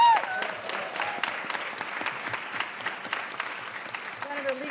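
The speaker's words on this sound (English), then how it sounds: "Let's give another round of applause" An audience applauds at a legislative breakfast with the governor, the clapping steady and dense at moderate loudness, with a voice and a brief tone rising near the end.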